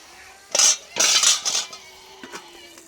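A lid clatters onto a pot of cooking spinach, two or three loud close metallic clanks in quick succession, followed by a faint lighter tap.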